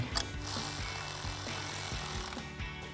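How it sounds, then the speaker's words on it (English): Ratcheting socket wrench tightening a bolt down on a plastic cold air intake of a 2018-2023 Mustang GT, a rapid run of close mechanical clicks. "grab a 3/16 Allen socket and an 11mm wrench and tighten that down"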